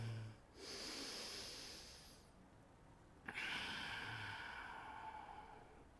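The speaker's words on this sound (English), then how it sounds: "feel the consistency in your breathing" Slow, audible breaths during a yoga flow class: a long steady exhale through the nose, a brief pause, then a sharp inhale rising into another sustained airy breath, close and fairly loud.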